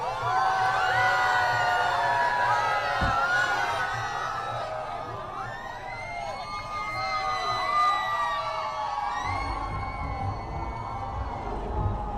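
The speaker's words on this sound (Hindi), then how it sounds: "ये भीड़ देखिए, महिलाओं की, बच्चों की।" A roadside crowd of women and children cheers and shouts during Prime Minister Modi's road show in Bhuj, Gujarat, with sustained whoops and screams and a voice talking over the excited din.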